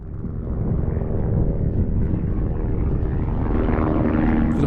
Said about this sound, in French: Vous entendez ce bruit? Ce bruit d'hélicoptère?